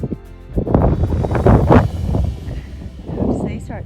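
Strong gusts of wind buffet the microphone on an exposed mountain summit in Kosciuszko National Park, roaring up and down in loud, uneven surges with a voice speaking near the end.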